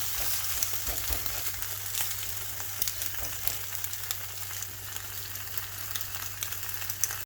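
Bacon sizzles and crackles steadily in a hot pan, a constant close-up frying hiss with scattered pops and no voices.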